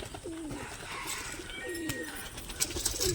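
Pigeons coo softly and repeatedly nearby, their low warbling calls set against light outdoor background noise.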